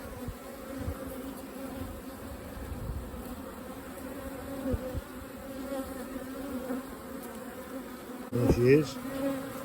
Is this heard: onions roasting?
no